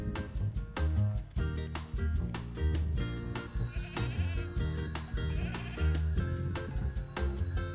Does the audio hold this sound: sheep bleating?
yes